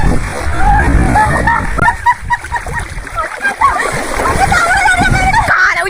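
Someone jumps into a forest river, a loud close splash followed by sloshing and gurgling water, with people, including a child, talking over it.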